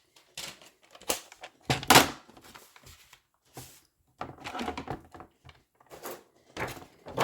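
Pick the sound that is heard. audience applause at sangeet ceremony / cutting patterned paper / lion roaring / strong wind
cutting patterned paper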